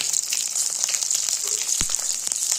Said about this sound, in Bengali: খাবারটা ভালো মতো ভেজে নিতে হবে এইভাবেই একটু আঁচটা কমিয়ে দিয়েই ভাজতে হবে